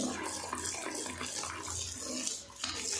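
Grains are washed by hand in water: continuous splashing and swishing of water, close and fairly even, with no talking.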